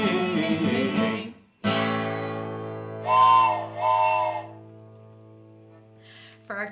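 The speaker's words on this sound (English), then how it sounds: "For our train whistle" A train whistle sounds in a few sustained, steady tones, with a louder two-part blast in the middle, standing alone and clear after a brief burst of singing at the start.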